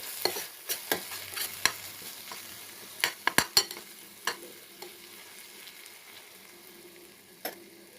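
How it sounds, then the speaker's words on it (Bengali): A spoon stirs crushed spices and masala in a pan for prawn malai curry, giving scattered scraping clicks and taps over a faint, quiet sizzle, close and without talk. "থেতো করা গোলকিটা দিয়ে দেবো, একটু নাড়াচাড়া করে দেবো।"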